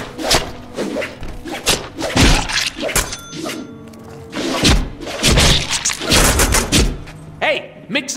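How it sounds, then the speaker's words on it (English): Light and heavy melee attacks in the Deadpool video game: a rapid run of loud thuds, whooshes, slams and crunching impacts, dense and uneven, with voices speaking throughout. "mix our light and heavy attacks together and see what happens"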